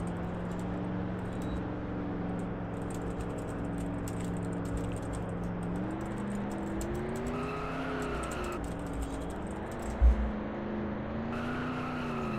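Race car engines whine steadily through the final lap of a race, with pitch rising and falling through gear changes and a brief thump near the end, all without talking.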